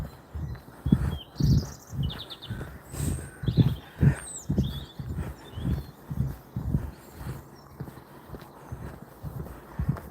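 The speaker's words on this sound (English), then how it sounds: "The birds are chirping away." Birds chirp in quick bursts high above a steady, rhythmic clip-clop of hooves that dominates throughout.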